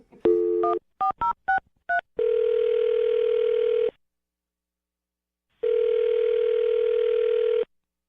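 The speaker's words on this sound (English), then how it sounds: "I'm going to dial his phone right now" A quick series of phone keypad beeps, then two long ringback tones separated by a pause, clear and close as an outgoing call rings.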